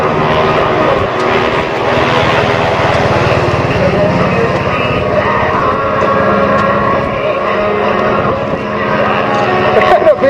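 A propeller airplane flying aerobatics at an air show drones steadily with a wavering engine tone, the sound continuous and fairly loud throughout.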